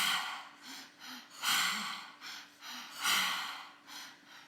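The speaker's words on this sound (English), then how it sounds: "Just keeping the breath moving." Deep rhythmic breaths in a guided breath-work exercise: strong, audible inhales and exhales repeating every second or so, close and alone with no talk, some rushes louder and gasp-like.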